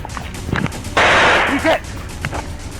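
Gunfire during a police encounter: a single loud, sharp burst cuts through shouted voices, followed by a brief sustained blast of noise as people keep talking around it.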